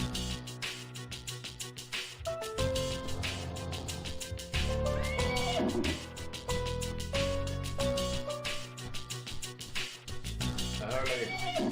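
Horses neigh in a video game, with a run of warbling, cat-like whinnies rising and falling over a steady tonal game soundtrack.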